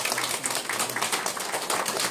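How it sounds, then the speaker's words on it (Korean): Dense, sustained applause from an audience at a Korean history and culture seminar and reunification-prayer ceremony, a continuous crackling wash of many hands clapping at moderate loudness throughout. "박수 한번 올려주십니다."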